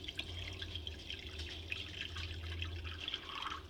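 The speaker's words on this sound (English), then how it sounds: "we're going to add about 1 inch of hot tap water to the bottom of the dish." Hot tap water pours into a baking dish holding a jar, a faint steady trickle with soft drips running quietly throughout, no voices.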